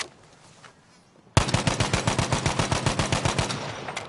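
Rapid automatic gunfire in the video game Battlefield V, a fast, evenly spaced burst that starts abruptly after a quiet moment and keeps going loud and close for nearly three seconds.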